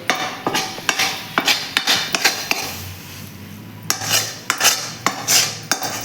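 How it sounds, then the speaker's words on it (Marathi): Hot coconut burfi mixture being scraped from a pan onto a plate: a close series of sharp metallic clinks and scrapes of a spoon against the pan and plate, irregularly spaced, with no talking. "आता हे मिश्रण आहे ते आपण या ताटामध्ये काढून घेऊया"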